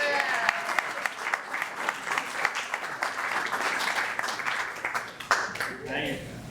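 Applause at a whiskey tasting at New Scotland Spirits distillery, a modest group clapping for a first sale, uneven and mid-loud, with voices mixed in and a louder burst near the end.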